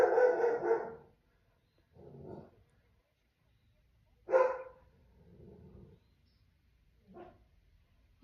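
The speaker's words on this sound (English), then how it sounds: "you're about to hear Honey bark" Honey, a dog, gives about five loud, close barks in separate bursts with short pauses between them, some barks sharper and others lower and more muffled.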